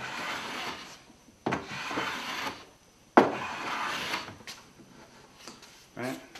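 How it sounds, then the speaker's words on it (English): A block plane shaves the edge of a wooden router table part in three or four quick rasping strokes, each a short scraping burst separated by pauses, with a voice talking over them. "a block plane"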